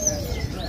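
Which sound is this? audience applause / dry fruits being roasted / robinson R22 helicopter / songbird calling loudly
songbird calling loudly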